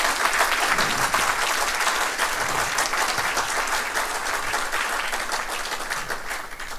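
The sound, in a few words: audience applause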